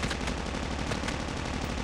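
Rapid, continuous automatic gunfire from the Call of Duty Mobile video game rattles loud and dense without pause, a sustained burst with no talk.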